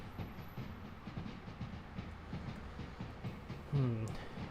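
A Pendolino train runs on the West Coast Main Line between Preston and Carlisle in the Train Sim World 6 simulator, a steady low rolling rumble with a brief tonal horn-like blast near the end.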